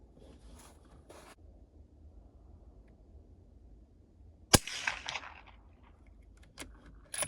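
A single suppressed shot cracks sharply from a 6.5 Creedmoor rifle with a Silencer Co. Scythe titanium suppressor, loud and brief against a quiet outdoor range, followed by a short rustle and faint clicks of handling.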